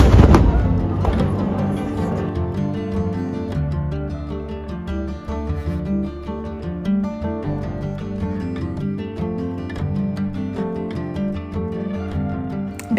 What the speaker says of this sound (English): every day here at 12 and 4 p.m. they fire guns as saluting battery